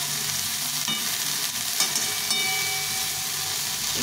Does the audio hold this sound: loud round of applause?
no